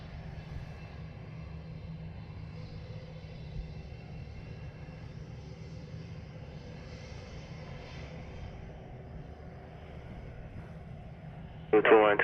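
Jet airliner taking off at Montego Bay airport, a low, distant engine rumble holding steady throughout, heard faintly beneath radio chatter.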